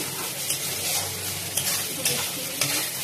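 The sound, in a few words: stir-frying potol dorma filling with Kashmiri chili powder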